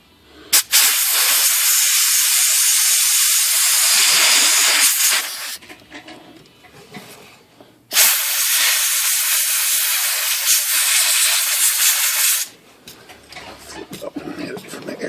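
Compressed air blasts excess lubricant off the ribbon mechanism of a Hermes Rocket Swiss typewriter in two long, loud, close hissing bursts of several seconds each, separated by a quieter pause.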